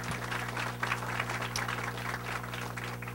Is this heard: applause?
yes